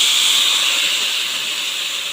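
Pork blood poured into a hot pan for dinuguan with papaya sizzles in a loud, steady hiss that fades only slightly as it continues.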